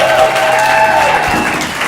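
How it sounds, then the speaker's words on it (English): A live theatre audience at a stage comedy show gives loud, sustained applause for a volunteer called up on stage. The clapping is dense and even, with some cheering and a voice over it. "Give a round of applause."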